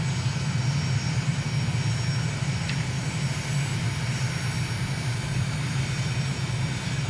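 A small propeller airplane flying near an island airport, cruising toward a landing on runway 12. The engine gives a steady, loud drone from inside the cabin throughout, with no speech.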